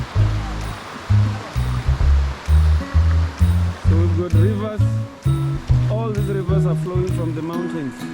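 A river stream on a nature reserve hike flows steadily, with a rushing, gurgling wash of water running throughout while people talk over it nearby.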